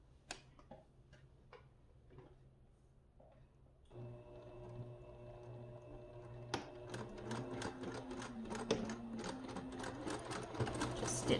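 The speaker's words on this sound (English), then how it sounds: "you're gonna take it back to your machine and you're gonna stitch down the side" Home sewing machine stitching a quarter-inch seam down the side of fabric, starting after a few soft ticks and running steadily with a rhythmic whirring hum that grows busier and louder toward the end.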